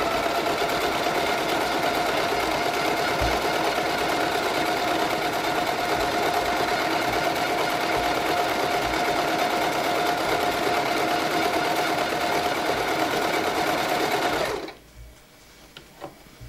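A Silvercrest household sewing machine runs steadily while stitching a decorative pattern, its needle mechanism whirring at an even, rapid pace for about fourteen seconds before stopping abruptly into near silence.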